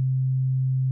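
Pure low sine wave from the Ableton Wavetable sub-oscillator with its tone knob at zero, a single steady hum held for under a second, clean and alone.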